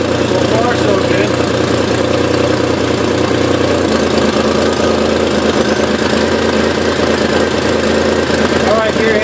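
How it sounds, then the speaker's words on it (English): A GM 3.8 engine in a Camaro idles after a throttle body service, with a loud, constant, rough running drone that holds steady throughout. "we're going to let this run for a while and let that idle relearn itself"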